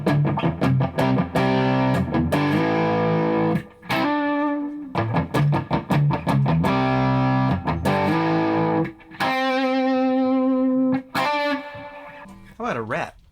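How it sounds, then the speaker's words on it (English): A Chibson Explorer electric guitar with ceramic pickups plays through reverb and a tube screamer overdrive pedal, loud sustained chords and riffs with brief pauses, a voice heard faintly around the playing. "If we turn on some reverb, and then maybe a tube screamer"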